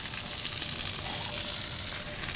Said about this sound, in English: what we're gonna do is add some sliced shallot rings